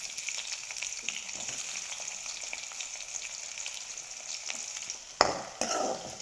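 Chopped onions sizzle steadily in hot oil as they are stirred, with a continuous close frying hiss and a louder scrape and burst of sizzle near the end.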